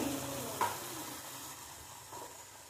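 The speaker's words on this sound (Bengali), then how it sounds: "তেলের মধ্যে মশলাটা খুব ভালো করে কষিয়ে নিয়েছি" Spice paste frying in oil for a crab curry gives off a soft, steady sizzle, quiet and close, with a single stir or clink near the start.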